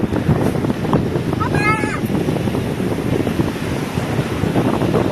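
Ocean waves wash in steadily under heavy wind buffeting the microphone, with a faint voice in the background.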